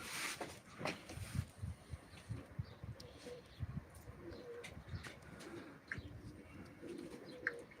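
Pigeons coo steadily at a live pigeon auction on a hot day, soft repeated low calls mixed with occasional chirps in a busy outdoor setting, with no talk.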